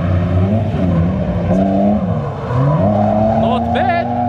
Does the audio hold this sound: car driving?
yes